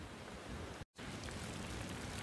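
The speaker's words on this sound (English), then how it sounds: "It's raining again" Steady rain hisses as a dense, even wash of noise, broken by one brief moment of silence.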